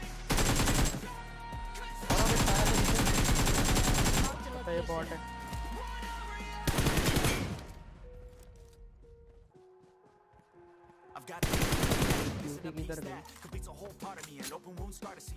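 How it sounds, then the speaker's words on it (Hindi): Bursts of rapid automatic gunfire in a PUBG-style shooter video game, loud and sustained in several volleys separated by quieter gaps, with a player talking over them. "लेकिन तभी फायरिंग होने लगी"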